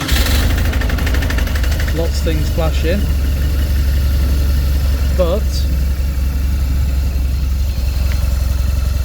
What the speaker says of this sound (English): I managed to put a battery in, put a fresh battery on, remove the alternator belt, and it's firing up.